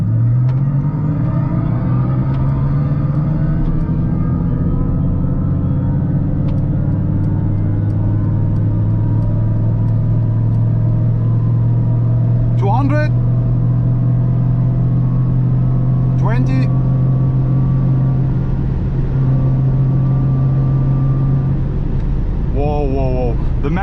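A Mercedes EQS AMG electric car with 761 hp launches from a standstill race start on the Autobahn, its rising motor whine and road rumble building steadily and close, with passengers talking over it.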